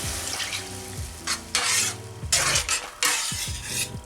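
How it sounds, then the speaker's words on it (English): Coconut milk fish curry with tomato puree and coriander paste cooking in a pan, giving a close, busy sizzle and bubbling with scraping stirs in several bursts over a low steady hum. "It's starting to bubble now and I'm going to reduce the heat to medium."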